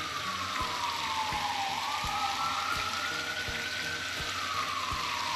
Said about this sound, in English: the ambulance has to go by